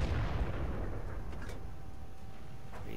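A single heavy artillery shot from the SU-5 in World of Tanks booms at the start, its low rumble fading over a few seconds with faint mechanical clicks afterward.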